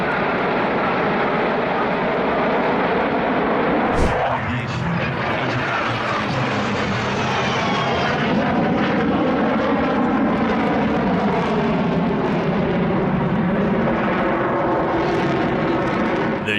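Russian Air Force fighter jets pass overhead, a loud sustained engine roar with a sharp onset and a sweeping, shifting tone as the aircraft fly by, filling the whole stretch without speech.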